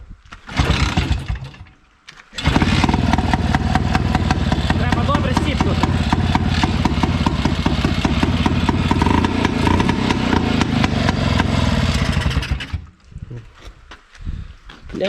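A Muravei motor scooter fitted with a PZ 27 carburetor, choke on, runs loud and close. After a short first burst and a pause, the engine catches and idles steadily for about ten seconds before cutting out into sputters.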